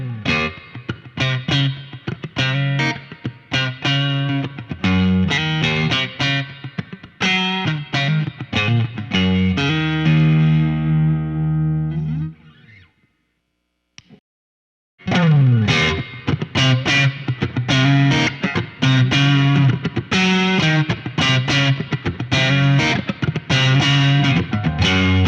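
Electric guitar played through a Chula boost pedal into an amp, loud driven chords and riffs, a sustained ringing chord fading to a brief silence, then strong strummed playing resumes.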